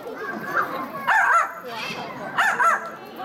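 A talking bird at a bird show imitates a yappy little dog, with a few quick, high barks and yips in short bursts, close and clear.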